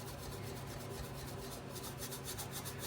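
A rag with WD-40 is rubbed over a rusty John Deere 140 H1 patio tractor, giving faint, rhythmic scrubbing strokes in quick repeated passes.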